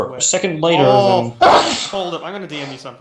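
One sharp sneeze bursts out midway through a lively conversation, loud and close, with people talking before and after it.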